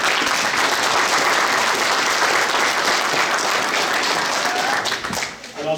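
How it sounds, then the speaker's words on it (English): An audience at an elementary school play gives the young performers loud, dense, sustained applause that fades slightly at the very end. "I'd love to give them a round of applause to begin with"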